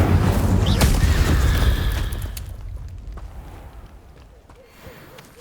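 The Incendio fire spell in Hogwarts Legacy erupts as a loud, close burst of fiery blasts and crackles, then fades into a quieter rumbling tail with scattered pops.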